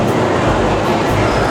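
A train pulling into a station in Kobe, a loud, steady broadband rumble and rush that fills the short stretch without pause, heard close from the platform.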